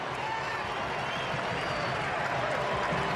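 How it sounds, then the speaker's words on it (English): A German crowd in a football stadium at a World Cup match against the USA roars in a dense, sustained wall of cheering and applause, loud and unbroken throughout. "The German faithful in the crowd erupt."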